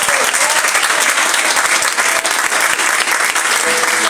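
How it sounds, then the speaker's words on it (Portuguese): A church congregation at a Christmas service claps loudly and continuously, dense applause filling the room without pause from start to finish. "Vamos aplaudir o Senhor pela vida dele?"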